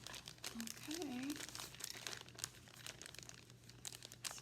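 The zipper on a small fabric toolkit bag from a diamond painting kit snags as it is tugged, making crinkly rustling and scraping up close, with a faint voice underneath.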